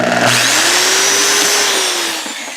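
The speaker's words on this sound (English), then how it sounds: "Short bit on the close quarter drill, and then hand drive it." A close quarter drill with a short bit spins up to a loud, steady whine during kitchen remodel work, close by, then winds down near the end.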